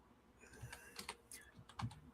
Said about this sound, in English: I have trouble concentrating when I'm typing at the same time and talking